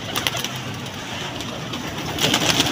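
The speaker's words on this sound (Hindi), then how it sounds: "कबूतरों की चाहत" Soft, low pigeon cooing close by over a steady rumbling background, continuous and murmuring, with a few brighter chirps near the end.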